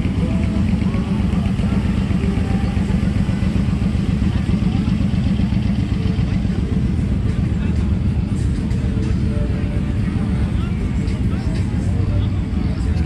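Motorcycle engines at an Orlando bike night, a dense continuous rumble of idling and revving bikes nearby, loud and steady throughout, with crowd voices mixed in.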